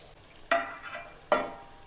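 Two sharp, bright scraping stirs sound over a quiet background of onions softening in a pan, each one trailing off with a brief sizzle.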